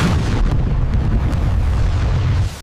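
A rocket blasts off as a film sound effect: a loud, continuous roaring rumble that holds steady and then cuts off abruptly at the end.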